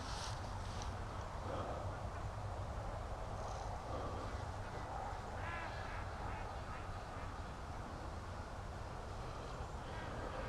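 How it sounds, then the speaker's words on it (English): Ducks in a free-range yard quack in a noisy, agitated chorus, many calls overlapping against a dense, loud outdoor background, with a voice briefly mixed in. "Ducks are freaking out in the yard."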